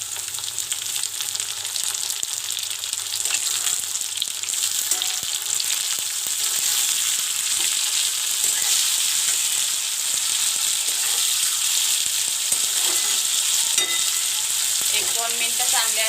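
Chopped vegetables, capsicum and tomato among them, sizzling and being stirred in a hot pan for street-style Schezwan noodles; a steady, close frying hiss with scraping stirs throughout, no talk.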